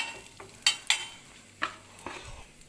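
Almonds and cashews fry in a pan with a soft sizzle underneath, while a spoon scrapes and stirs in a few sharp, scattered strokes close by.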